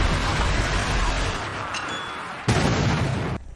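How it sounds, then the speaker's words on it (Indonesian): A grenade blast tearing through a horde of zombies in a zombie film, a dense, loud roaring explosion that rumbles on, with a second sharp burst near the end before the sound cuts off. "dengan terpaksa Sing pun nekat meluluh lantahkan seluruh zombie yang ada dengan sebuah granat."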